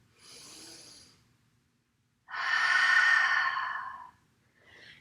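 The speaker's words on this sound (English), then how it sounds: "Exhale out the mouth. Inhale, breathe into low belly." Deep breath pushed out through the mouth during a yoga flow, a long breathy exhale following a softer inhale, close and alone with no talk.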